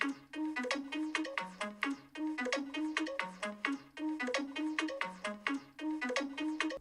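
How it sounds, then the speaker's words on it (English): A custom ringtone tune composed on a Nothing Phone 3a plays as a bright, plucky synth melody, repeating a short rhythmic phrase several times at moderate volume with no voices. "You just play the tune you want to play, hit save, and now this will be set up as a ringtone."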